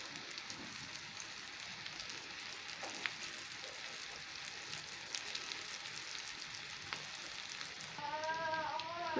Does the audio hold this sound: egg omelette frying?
yes